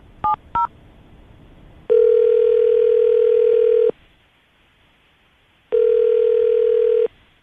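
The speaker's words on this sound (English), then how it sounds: "we're going to call him, see if we can get him on the phone" Placing a phone call: two quick keypad tones, then a long steady ringing tone, a silent gap, and a second ring.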